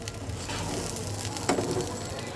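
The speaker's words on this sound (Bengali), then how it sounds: "আমি 2 কৌটা, যে কৌটা দিয়ে আমি মেপেছিলাম ওই 2 কৌটা আমি জল ঢেলে দেব।" Hot water poured into a pot of white pilau rice with peas sets off a steady hissing sizzle that swells briefly midway. It is moderately loud and close, with no talking.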